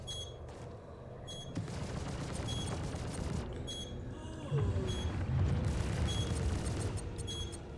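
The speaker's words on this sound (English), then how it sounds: "I think we have somebody else shooting at us now" Spaceship weapons fire in the Star Citizen game, with an Esperia Talon fighter in combat: a dense, continuous barrage of rapid gunfire bursts and booms, loud and sustained throughout with a heavier surge midway.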